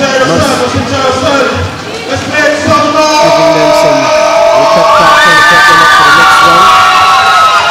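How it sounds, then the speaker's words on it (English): Excited crowd at a Belize versus Mexico boxing match, a dense, loud roar of cheering and whooping with shouting voices that swells and stays high throughout, with rising pitched yells near the end. "very noisy in here. I think the crowd is very excited"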